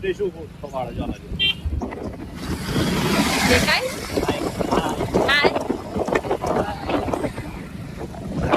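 An auto rickshaw rumbles along with wind buffeting the microphone, while several family members talk over the road noise.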